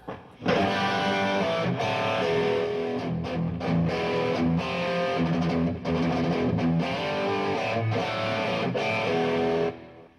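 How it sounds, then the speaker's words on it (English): A heavily distorted electric guitar chugs out rhythm chords, dense and loud, with brief stops between riffs. "And then we have some basic heavy rhythm sounds."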